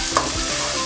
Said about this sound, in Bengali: ডাল বাটাটা দিয়ে এবার একটু নাড়বো।